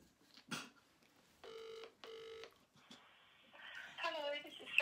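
A telephone ringback tone sounds twice in short, even bursts during an outgoing call, followed by faint line noise and then voices talking.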